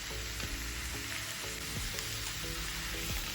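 Bamboo shoot and onion sizzle steadily in a frying pan while being stirred, a dense, continuous hiss broken by periodic scraping strokes, close, with no one speaking.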